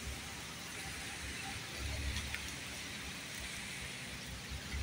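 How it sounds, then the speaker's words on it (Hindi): Steady heavy rain pours down in Karachi in a dense, continuous hiss, with a low rumble underneath and no voices. "देख रहे हैं कि कितनी बारिश हो रही है।"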